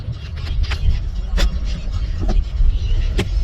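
A car reversing on its own, a low steady engine rumble with occasional clicks and knocks, heard up close.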